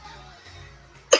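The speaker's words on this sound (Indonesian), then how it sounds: "sorry saya batuk ya" A single short cough bursts out sharply at the very end, following a quiet stretch of faint room noise.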